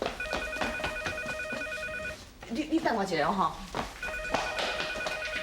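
An old-style telephone bell rings in repeated bursts in a home scene from a Taiwanese drama, sounding before and after a stretch of talk; someone speaks over and between the rings.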